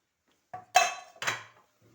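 Walnuts tumble into a metal pot with a short rattling clatter, followed by a second scraping burst as they are stirred.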